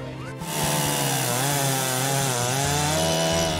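A normal, non-specialty chainsaw carves into wood at close range, its engine revving loudly and steadily after a brief quiet start and holding a continuous high whine throughout.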